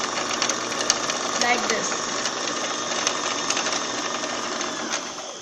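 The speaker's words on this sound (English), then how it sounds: "the thread is filled into the bobbin" A Brother JS1410 sewing machine winding thread onto a bobbin with its motor driven by the foot pedal, giving a steady, close whirring drone with light rattling throughout while a person speaks briefly over it.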